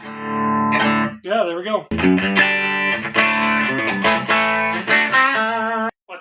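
An electric guitar through a Joyo Bantamp Jackman II amp, with volume at 12 o'clock, plays loud, distorted chords and a few bends in a steady stream, and someone speaks briefly at the end.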